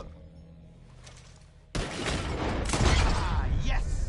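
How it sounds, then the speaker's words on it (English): Gunfire and breaking glass in Red Dead Redemption 2 during a bottle-shooting contest: a quiet stretch with a soft voice, then a sudden loud, dense burst of shots and shattering that keeps going to the end. "Whoever shoots more of these bottles wins."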